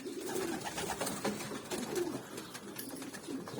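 Pigeons coo repeatedly in soft, throaty bursts, several birds close by with a faint background murmur.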